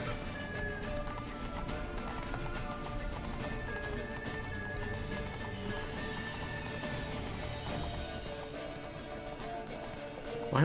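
A horse galloping in the video game The Witcher 3, rapid continuous hoofbeats under game music that run steadily for the full stretch at a moderate distance.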